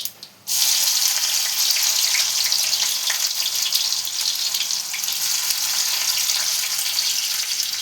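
Onions dropped into hot oil for a puri potato curry burst into a loud, continuous hissing sizzle right after a brief quiet moment, holding strong and steady throughout.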